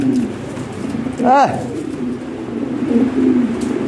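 Lahori Sherazi pigeon giving a single loud, close coo with a rising-falling warble, set against a steady low murmur of other birds and background noise.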